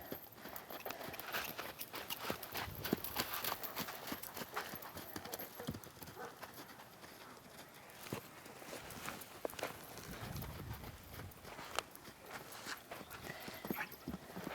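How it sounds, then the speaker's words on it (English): A horse in a working hunter show class trots around the course and over jumps, its hooves giving steady rhythmic clip-clops on the ground at a moderate distance, with faint background noise throughout. "The horse enters at a trot, goes over, then is going to trot up to the next jump"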